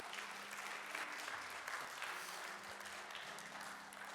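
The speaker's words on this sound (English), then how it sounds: "Let's give her a round of applause." Graduation ceremony audience applauding steadily in a large hall, dense continuous clapping at an even level with faint voices mixed in underneath throughout.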